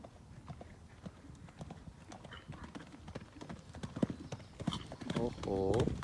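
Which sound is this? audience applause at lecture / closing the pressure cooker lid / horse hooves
horse hooves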